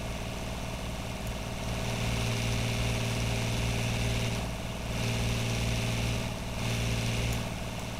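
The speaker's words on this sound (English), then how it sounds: "let's get the engine sound here." A tiny supercharged car engine in the BeamNG driving game holds a steady, droning hum with mild swells in pitch and loudness, loud and alone with no talking.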